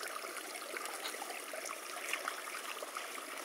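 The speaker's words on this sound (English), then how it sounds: "So first off, I'm going to go ahead and rinse these off." Wild leeks are rinsed in a shallow flowing stream, and the water trickles and burbles softly and continuously close by, with small splashes from the rinsing.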